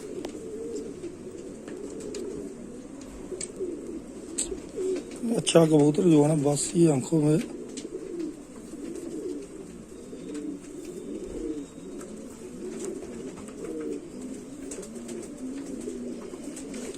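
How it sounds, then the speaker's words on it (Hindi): Pure Kasuri pigeon cooing in a short burst of a few rhythmic, close coos, while someone speaks continuously across the whole stretch. "कसूरी कबूतरी है जी प्योर"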